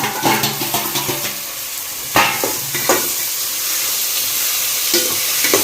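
Onions and tomatoes sauté in a pan for homemade biryani, with a steady sizzle broken by sharp scraping strokes of a stirring spoon, close and clear with no talking.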